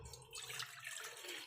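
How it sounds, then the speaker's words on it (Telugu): A glass of water is poured into a pot on a lit stove, a short, bright splashing gush that is quiet and close. "1 గ్లాస్ వాటర్ పోసుకున్నాం."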